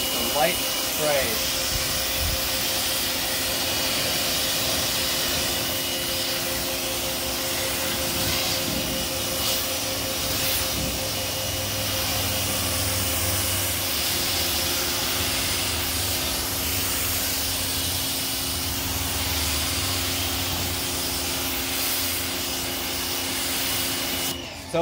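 Water sprays in a light pre-soak mist onto a 2023 Chevy Colorado Trail Boss during a wash, a long steady hiss over a constant mechanical hum, with brief bursts at the start and end.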